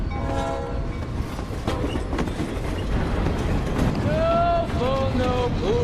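A freight train rolls along the rails with steady low rumble and rattle, while high squealing tones, likely wheels grinding, rise near the end; no one speaks.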